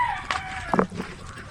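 Chicken clucking briefly in an outdoor island setting in the Philippines, a couple of short close calls over faint background noise.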